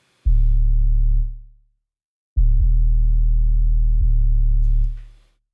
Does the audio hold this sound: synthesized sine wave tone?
yes